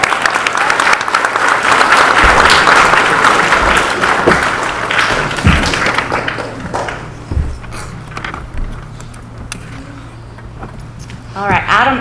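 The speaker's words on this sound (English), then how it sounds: "So now we can clap again" Loud clapping from the audience at a Mineola ISD school board meeting, dense at first and then thinning into scattered claps over about ten seconds, with rustling and a voice resuming as it fades.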